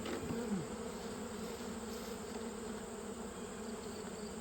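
Honey bees at a hive colony being winterized, a dense, continuous close buzzing drone that holds steady from start to finish.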